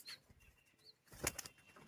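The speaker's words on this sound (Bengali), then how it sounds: "পায়রাগুলো ছাড়ি দেখি আমরা" Several pigeons of the Giribaz breed, released upward by hand, beat their wings in a brief burst of flapping, with a short earlier flutter; close and fairly quiet, with no talk.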